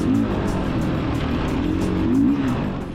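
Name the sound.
Beta 500 RRS dirt bike engine while riding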